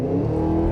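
The V8 of a 2023 Cadillac Escalade V-Series roars loud and close as it accelerates, a brief, dense, rising engine growl.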